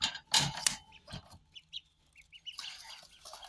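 Hens and chicks on a small farm make short clucks and high soft peeps at close range, scattered in brief bursts with quiet gaps between them.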